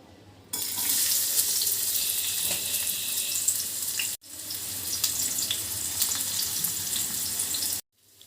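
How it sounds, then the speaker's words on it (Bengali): Fish is rinsed with salt under a running kitchen tap; a strong, close rush of water flows, stops briefly, then runs again before cutting off, with no voices. "মাছটা আমি লবণ দিয়ে ভালোভাবে ধুয়ে নিয়েছি,"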